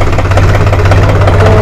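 A New Holland 47 hp 4x4 tractor engine runs loud and close, a steady low throbbing rumble with a rapid, even knock throughout.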